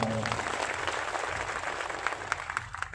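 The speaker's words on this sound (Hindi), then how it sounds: "ताली बजाओ एक बार जो।" Audience applause at a memorial gathering of devotional singers and musicians: a dense, steady patter of many hands clapping, sustained for about three seconds at moderate loudness, with some sharper individual claps standing out near the end.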